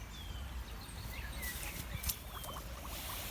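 A bare foot sloshes and splashes in a shallow stream, giving a couple of brief watery slaps over the steady burble of running water.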